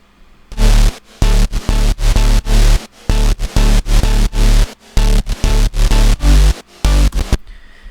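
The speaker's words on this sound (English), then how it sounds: "So altogether, this bass stack sounds like this." A heavy, layered synth bass plays choppy rhythmic bursts with deep sub weight and gritty upper tones, stopping and starting in a steady pattern with no voices.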